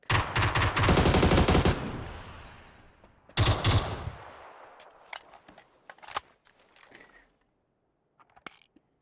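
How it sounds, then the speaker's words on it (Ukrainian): Loud bursts of rapid automatic gunfire rattle off, then scattered single shots and clicks follow more faintly with gaps of quiet, like a shooter game firefight. "Що це стріляли?"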